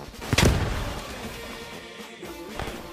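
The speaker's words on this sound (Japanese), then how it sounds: "さて敵スポーンを発見したので手榴弾ぽいぽい" A hand grenade detonates near an enemy spawn in the World War II shooter Post Scriptum: one sharp, heavy blast near the start that fades into a long rumbling tail, with a fainter thump near the end.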